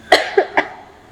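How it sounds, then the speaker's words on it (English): A single close, loud cough made of a few sharp bursts in quick succession from a person who has been coughing all day, with no talk over it. "I've been coughing like the entire day"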